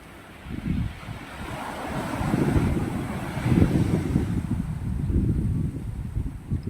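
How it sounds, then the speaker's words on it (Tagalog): Big ocean waves surge and wash on the shore where fishing boats are pulled up, rolling in steady swells. Gusting wind buffets the microphone throughout. "Hindi kami makapag-fishing ngayon kasi medyo malalaki yung alon."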